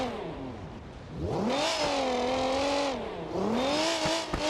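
A car engine in the driving simulation game BeamNG.drive, on an East Coast USA mission, revs up and down in loud continuous sweeps, the tone rising and falling twice with a faint tire-like squeal near the end.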